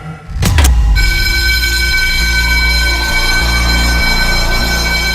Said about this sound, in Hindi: अब ये फायर अलार्म किसने बजाया?